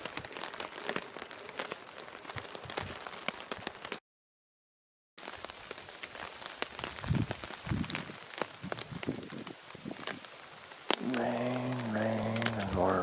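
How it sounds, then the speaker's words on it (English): Rain patters steadily on surfaces nearby, scattered drops ticking throughout, briefly cut out, with a voice speaking near the end. "Rain, and more rain."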